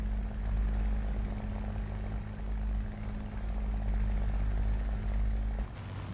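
A Spitfire's Merlin engine in a flight video game, a steady low droning hum with strong harmonic tones, continuous and even, briefly dipping near the end.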